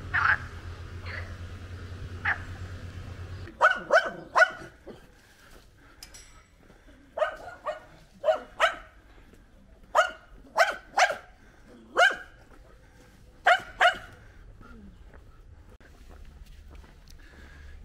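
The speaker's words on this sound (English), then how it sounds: "It's common that you meet dogs and they are barking at you as soon as they hear your footstep." Dogs bark at walkers passing along the Camino Portuguese in Portugal, a few distant yaps followed by clusters of sharp, fairly close barks in uneven bursts, with no talking.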